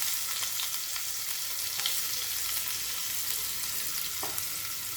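Onion frying in hot oil with mustard seeds and cumin, a steady soft crackling hiss with faint stirring scrapes, close and continuous, no voices.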